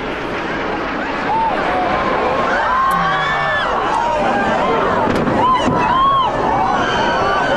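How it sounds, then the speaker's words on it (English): A huge, roaring explosion as a plane hits a tower on September 11, 2001 rumbles on and on, with excited voices and crowd noise mixed into the continuous blast. "The northeast corner has exploded in the most incredible explosion."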